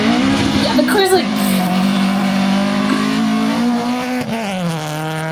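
A rally car drives over dirt during the Royal Rally of Scandinavia, with a loud, close engine whine rising and falling in pitch as it revs. Voices talk over it.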